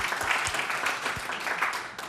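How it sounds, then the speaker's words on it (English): Audience applause at an investment session of a young entrepreneurs' forum in Kazan, a steady dense patter of many hands clapping throughout, moderately loud and sustained with no pause. "I also want to give an applause to them."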